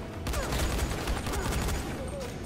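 Gunshots in the video game Dying Light, a loud, continuous barrage of rapid shots with heavy low-end thumps running through the whole moment.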